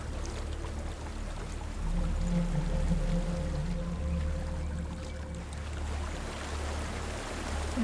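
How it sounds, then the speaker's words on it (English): Steady rushing water from a waterfall in the video game Hellblade: Senua's Sacrifice, a continuous broad wash of sound with a low rumble, moderately loud and unbroken throughout, with no voices. "There's a waterfall."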